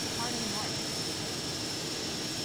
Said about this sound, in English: Taking off immediately, runway 21.